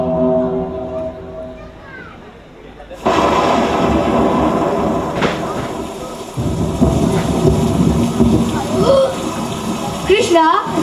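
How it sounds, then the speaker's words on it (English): Thunder rolls and crashes over steady heavy rain during a Krishna and Sudama drama. The loud storm wash kicks in abruptly and builds with booming rumbles and sharp cracks, and the voices of performers are faintly audible early on. "this is a storm"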